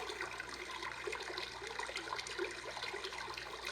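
Brook setting on a sleep sound machine plays a constant babbling, trickling water sound with small bubbly flickers throughout, soft and steady, and nobody speaks.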